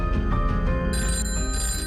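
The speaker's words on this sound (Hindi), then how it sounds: "किसानों के हर फोन का विशेषज्ञ देंगे जवाब।" A telephone rings with a continuous bright electronic trill, loud and close, pulsing steadily for about two seconds with no voices.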